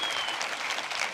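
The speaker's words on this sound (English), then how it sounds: "let's give them a round of applause" Conference audience at a Psychedelics as Medicine session gives a round of applause, a dense, steady burst of clapping lasting just over a second with no talk.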